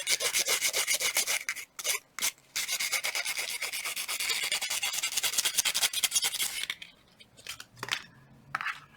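An ammonite pendant being wire wrapped is rubbed against sandpaper in rapid, even back-and-forth strokes, a close scratchy rasp that runs continuously before breaking into a few short, separate passes.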